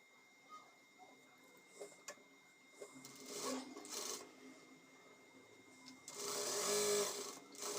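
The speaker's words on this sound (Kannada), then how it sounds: "ಮತ್ತು ಈ ಕಡೆನೂ ಸ್ಟಿಚ್ ಮಾಡ್ಕೊ ತೋರಿಸ್ತೀನಿ." A sewing machine stitching the pocket of a chudi top: a quiet background with a few faint clicks, then short bursts of rapid mechanical whirring, the last burst the longest and loudest.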